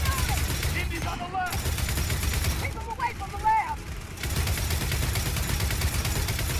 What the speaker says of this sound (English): Gotta use their own guns against them.